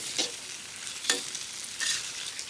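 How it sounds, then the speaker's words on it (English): Rump steak sizzles in a hot pan during a stir-fry, with a steady fizzing crackle broken by a few sharper bursts as the meat is stirred and tossed. "So a good sizzle is pretty much what you want. It means that the meat's sealing."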